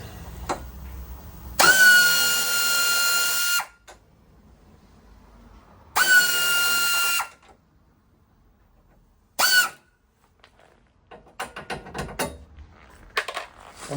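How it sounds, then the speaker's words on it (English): Bursts of a power tool whirring on bolts of the nudge bars on a classic Fiat 500, three loud separate runs of about two, one and a half and half a second with quiet gaps, then lighter clicks and handling noises. "Now we'll loosen the bolts on the nudge bars and then just work our way across."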